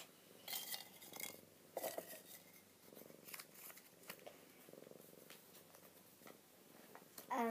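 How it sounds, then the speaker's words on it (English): A cat purrs softly up close, a faint low rumble broken by scattered clicks, rustles and small handling noises. "A cat."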